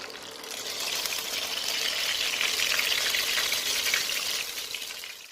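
Oil sizzling in a kadai while chilli chicken is cooked, a steady broad hiss that swells in, holds evenly for several seconds and fades out at the end, with no voices.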